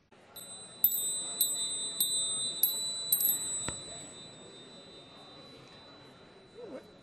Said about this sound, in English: When you hear the Tibetan prayer chimes, it's come back to melt again.